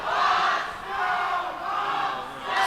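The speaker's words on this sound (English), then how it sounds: "Go Buffs chants erupting at the rec center" Hockey fans at a college club game in a recreation center rink chant in unison, a loud rhythmic two-beat crowd chant repeating roughly every second, echoing in the arena.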